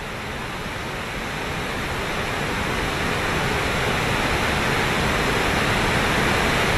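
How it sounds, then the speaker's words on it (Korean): The Masikryong waterfall sounds as a steady, broad roar from a distance, a continuous rushing wash of water that swells slightly louder over time. "멀리서부터 들려오는 폭포 소리는 사람들의 마음을 부쩍 흔들어주는데"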